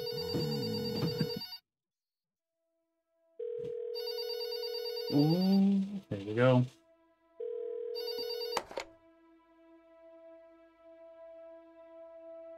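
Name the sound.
telephone ringing in video game There Is No Game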